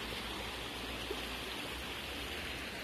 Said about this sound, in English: right next to a creek with the bubbling brook sound